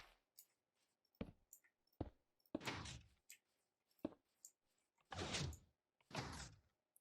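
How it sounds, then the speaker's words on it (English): A 2x2 redstone piston door in Minecraft opens and closes, its pistons firing in a run of sharp, close thunks and longer hissing slides, with quiet gaps between them and no voices. "We have a functioning 2x2 piston door."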